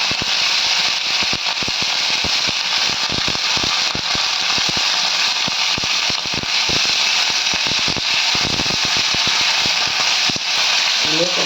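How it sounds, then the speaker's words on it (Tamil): Veldt grape sautéing in oil in a pan makes a loud, close, constant frying hiss, overlaid with rapid, irregular clicking and scraping from stirring that persists throughout. "உப்பு எண்ணெயை ஊற்றிக்கிங்க இந்த பிரண்டியை நல்லா வதக்கிக்கிங்க"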